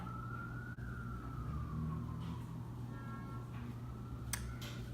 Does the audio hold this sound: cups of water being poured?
no